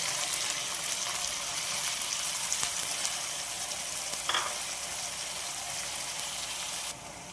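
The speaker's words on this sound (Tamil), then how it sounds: "இப்போ தக்காளி நல்லா வதங்கிருச்சு." A medium tomato sautés in a pan with golden-fried onions, giving a continuous, even hiss of sizzling oil at moderate volume that drops a little right at the end, with no voices.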